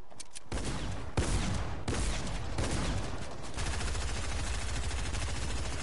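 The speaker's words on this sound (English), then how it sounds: "You're shooting me through all the stuff." Video-game gunfire rattles in fast automatic bursts, loud and close, with a few sharp single shots and a long sustained volley near the end.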